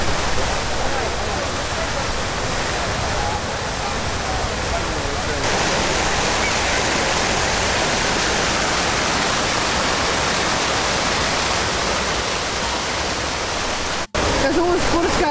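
A water fountain in Athens splashes in a dense, continuous hiss of falling water, loud and close, broken by a sudden cut near the end.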